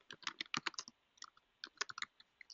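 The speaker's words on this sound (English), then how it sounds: "I'm going to type it here." Rapid, irregular clicking of computer keyboard keys being typed in two short bursts with a brief pause between, fairly quiet and close, with no talking.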